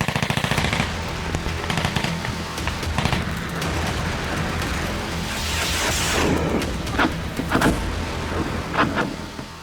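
Bursts of sharp gunfire crackle in short rapid volleys, some distant and some closer, against a rumbling background.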